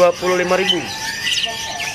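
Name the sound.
lovebirds chirping at a bird market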